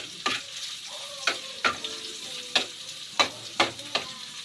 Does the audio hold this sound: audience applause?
no